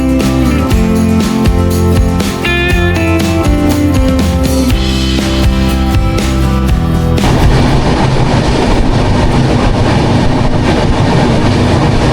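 The Jammu Mail train runs on rails from Katra to Delhi, giving a loud, steady rumble for the second half of the clip after about seven seconds of music.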